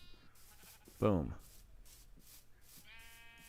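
A sheep in a survival video game lets out one loud, wavering bleat close by. A player talks briefly, with quiet game ambience and a few soft clicks around it.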